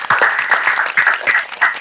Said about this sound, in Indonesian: Tepuk tangan buat Bang Edi.